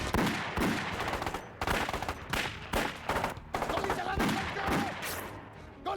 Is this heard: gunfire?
yes